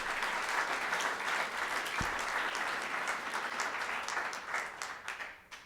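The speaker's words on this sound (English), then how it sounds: "Nellie, stand up so that everyone can applaud" Sustained audience applause at a museum director's talk, a dense even wash of many hands clapping that holds steady and tapers off at the end.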